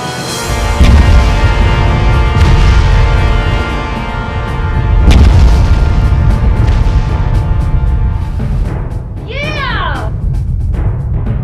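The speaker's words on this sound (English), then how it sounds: "We felt an explosion down there." A cartoon explosion lets loose a loud sustained rumbling blast with booming bursts, and a cat-like meowing cry rises over it near the end.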